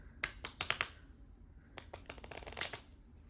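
A deck of prompt cards being shuffled indoors, close and fairly quiet: two bursts of rapid riffling flutter, the first a quick series of crisp snaps, then a pause and a second looser riffle, with no talking.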